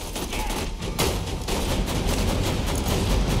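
Turret gunfire in the video game Borderlands 3, a dense, continuous rattle of rapid shots with heavier booms mixed in, loud and sustained throughout.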